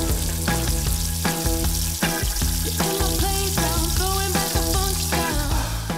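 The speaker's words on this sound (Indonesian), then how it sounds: "Kalau semua ayam filletnya sudah terselimuti, lanjut kita goreng ya Bestie, sampai warnanya kecoklatan" Battered chicken fillets fry in hot oil with a steady crackling sizzle, while rhythmic background music plays loudly over the cooking throughout.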